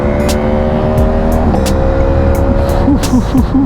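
A loud Aprilia Tuono 1100 V4 motorcycle engine idles and rumbles steadily up close, with a rough, burbling exhaust note and slight throttle blips near the end.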